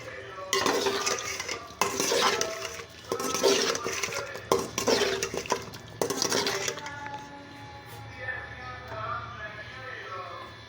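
Beef being stirred and browned in a pot for beef pulao, with spoon scrapes and clinks over a low sizzle in bursts for about seven seconds, then a quieter steady frying.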